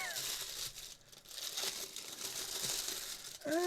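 Tape peeled and crinkled off a Power Rangers Turbo Blue Centurion toy, close rustling and tearing in continuous crackly textures, while a voice talks briefly over it.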